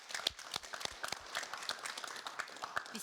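Applause from a studio audience at a televised youth panel on jobs in industrial companies, a brief patter of scattered claps, moderately close and fairly light, with no talk over it.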